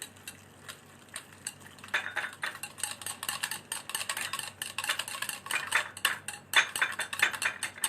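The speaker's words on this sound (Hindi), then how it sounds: "सो हमारे पास विस्क है, विस्क से आप मिक्स कर लीजिए इसको अच्छे से।" A whisk beats a pineapple-juice marinade for chicken skewers in a bowl, giving quick rhythmic metallic clicks and scrapes that grow busier and louder after the first couple of seconds.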